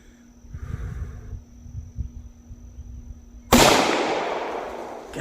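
A Tisas 1911A1 pistol at an outdoor shooting range fires one sharp, loud shot late in the stretch, followed by a decaying ring, after a quiet lead-in with faint low rustling and a steady electronic whine.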